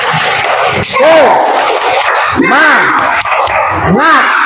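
Schoolchildren at an elementary school chant a rhythmic spirit clap together, loud overlapping young voices in bursts with claps between them, in a classroom setting.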